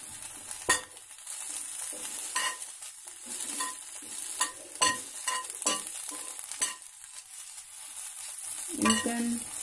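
Drumstick (moringa) leaves are sautéed lightly in a pan without oil, giving a faint dry crackle under sharp, irregular scraping strokes of a spatula, close by and with no voices.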